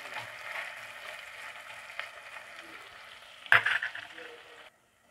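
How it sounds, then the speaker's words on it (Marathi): Chopped onion frying with cinnamon pieces in a pan gives a steady close sizzle, broken near the end by a short louder clatter of stirring before the sound cuts off. "कांद्याला व्यवस्थित फ्राय करून घेऊ याच्यामध्ये।"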